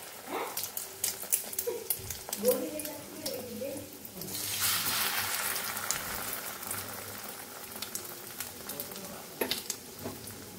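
Egg toast frying in a pan: a voice talks over light clatter at first, then a broad, steady sizzle takes over and runs to the end with occasional soft taps.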